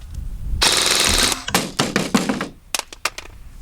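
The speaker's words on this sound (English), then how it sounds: "Full auto time!" A G&G Cobalt Kinetics BAMF airsoft gun fires on full auto in one rapid, loud, close burst of buzzing shots. Scattered mechanical clacks and thuds follow as the firing stops.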